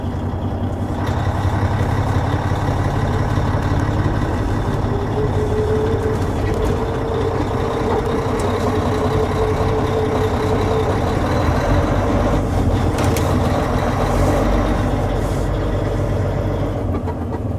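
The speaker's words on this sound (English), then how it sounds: "So this is the first drive of this truck for me." A truck engine runs steadily on a first drive, a loud, continuous low rumble heard from inside the cab with little change in pitch for the whole stretch.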